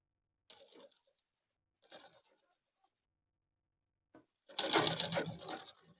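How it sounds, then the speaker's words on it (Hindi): A sewing machine stitches trouser fabric in short bursts: two brief runs, a quick blip, then a longer, louder whirring run of the needle near the end, separated by silence. "और सिलाई लगाएँगे।"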